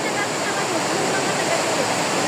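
Bomod-Ok waterfall in Sagada roars as a steady, dense rush of falling water, loud and close, filling the whole moment without a break.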